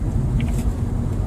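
A Honda Civic cruises at 45 mph with a steady low road rumble and engine drone inside the cabin, constant and close, with no talk.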